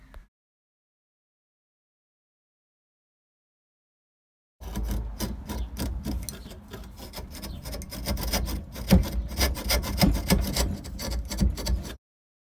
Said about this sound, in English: used my hacksaw to finish it off